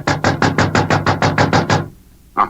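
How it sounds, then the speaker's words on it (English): Quick series of eleven firm, evenly spaced knocks on a theatre dressing room door, close and loud, followed by a short pause and one final separate knock. "Oh, it must be in his dressing room. I'll knock again."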